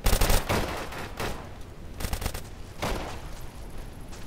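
Bursts of automatic fire from a Scorpion submachine gun in Deadside crackle close and loud in rapid clusters, separated by short pauses, with no talking.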